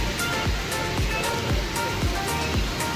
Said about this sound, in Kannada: ಜಲಪಾತ